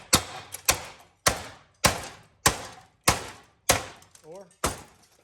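A plastic fan on a scrapped air conditioning unit is struck again and again, eight sharp thudding hits in a steady rhythm close by, with a brief voice murmuring between blows.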